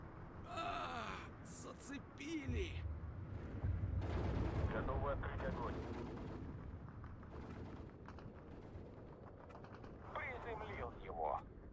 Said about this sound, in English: The artillery on this road is probably quite invaluable right now